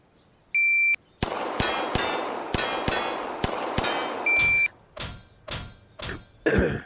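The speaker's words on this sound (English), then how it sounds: "I shot this place first. I called it low left." A string of sharp gunshots rings out against steel plate targets at a Steel Challenge shooting stage, about eight loud cracks each followed by a metallic clang, fired in quick rhythm between two timer beeps.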